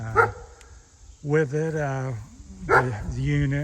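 A dog barks outdoors a few times in short bursts, fairly close, while someone talks over it during a review of a Ferris FW35 walk-behind mower.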